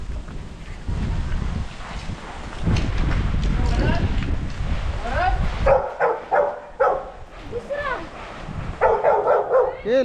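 Several dogs bark in short, sharp bursts near a hilltop temple, after a stretch of wind buffeting the microphone and indistinct voices.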